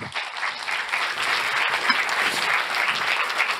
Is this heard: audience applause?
yes